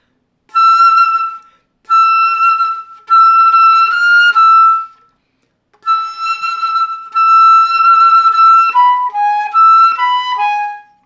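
A flute plays a passage from Köhler's Romantic Etude No. 15, "The Spinning Wheel," in bright, quick runs grouped into phrases. Short rests separate the phrases and the playing is close and loud, with no talking.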